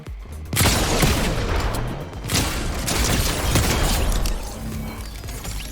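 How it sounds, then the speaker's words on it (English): DMR rifle fire in the video game Fortnite, with sharp rapid volleys and booming impacts that pour in dense bursts, loud and close, with scattered shattering and mechanical clatter and no voices. "Now, who's shooting at me with the DMR?"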